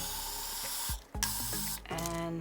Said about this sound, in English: I'm just gonna be using the Got2b spray